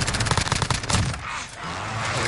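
Rapid bursts of gunfire in a battle-royale video game, a dense volley of shots in the first second, then a lull with a steady game-world background.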